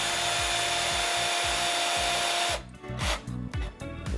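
A power drill bores holes in wood for a germination station build. A steady high whine with rhythmic grinding bites runs for a couple of seconds, then stops, and brief scraping and handling noises follow.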